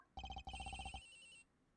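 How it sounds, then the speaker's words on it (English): A cell phone rings in the Ace Attorney Investigations video game, a rapid electronic trill in two quick bursts that ends in a sustained tone, fairly close and alone. "The ringing is coming from somewhere around here."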